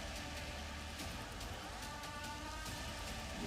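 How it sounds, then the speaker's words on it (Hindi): Rainwater falls through a hole in a school roof into a classroom during heavy rain, a steady, dense patter and splash of water that holds at an even level throughout. "स्कूल की छत में बने होल से क्लासरूम के अंदर कैसे पानी गिर रहा है"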